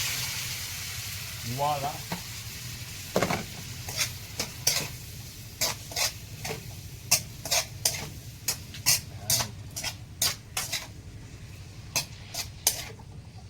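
Sliced bitter melon (ampalaya) is stirred into a hot pan to sauté, with a low sizzle beneath a string of sharp utensil clinks and scrapes against the pan. A brief voice speaks near the start.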